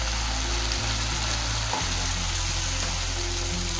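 Tomato paste frying in a pan while cooking dhaba-style butter paneer gives a loud, steady, close sizzle that runs throughout with no voices over it.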